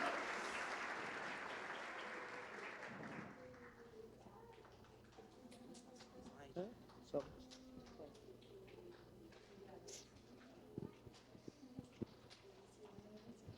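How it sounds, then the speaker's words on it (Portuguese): Loud applause for partners at a Família Gauss tenth-anniversary gathering, a dense burst that fades after about three seconds into quieter room noise, scattered knocks and people chatting. "Mais uma salva de palmas para os nossos super parceiros."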